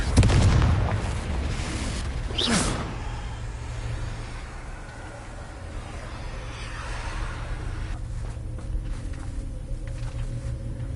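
Confringo, the explosive fire spell from the video game Hogwarts Legacy, gives a loud low boom at the start, then a second burst and a long rumbling fade with no one talking.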